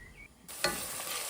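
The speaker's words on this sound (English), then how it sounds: "Then going back, stirring the onions. They're cooking away" Onions fry in a pan on the stove. After a quiet moment, a loud sizzle bursts in with a stirring scrape, then keeps up as a steady, close crackle.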